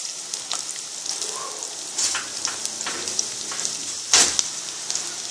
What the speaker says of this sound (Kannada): ಈ ಥರ ಈರುಳ್ಳಿ ಹಾಕ್ಕೊಂಡು ಸ್ವಲ್ಪ ಗೋಲ್ಡನ್ ಬ್ರೌನ್ ಆಗೋ ಥರ ರೋಸ್ಟ್ ಮಾಡ್ಕೊಳ್ಳೋಣ